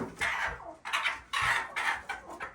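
Redbro hens cluck in a backyard coop after laying eggs, a series of close, repeated clucking calls arriving in uneven bursts with short pauses between.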